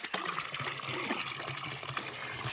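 Water splashing and trickling as hands and feet are washed at a cattle water tank in rural Konkan, a steady close running-water sound with small splashes, no talk.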